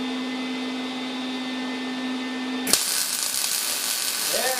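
Welding on a rotary engine stand adapter: a steady electrical hum gives way to a loud, harsh, continuous crackling buzz that holds to the end.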